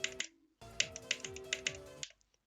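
Quick sharp mouse clicks in bursts while playing the platformer Hard Machine, crisp and close with an irregular tapping rhythm and no voice.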